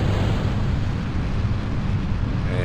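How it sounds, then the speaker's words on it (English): Solid rocket boosters firing during a launch in Kerbal Space Program, a loud, dense, continuous roar with a heavy low-end rumble, steady throughout without talk. "our solid rocket boosters are doing what they do best"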